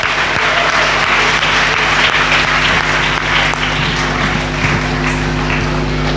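A church congregation claps hands together in steady, loud applause, a dense continuous patter with no talking over it.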